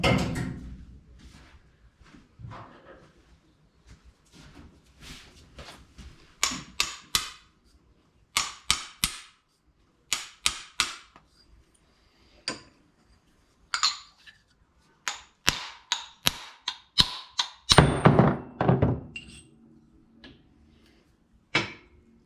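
Sharp metallic hammer blows on a jammed fuel filler for a 1951 Chevy Fleetline, landing in irregular bursts of single and quick double strikes, close and loud, with short pauses between.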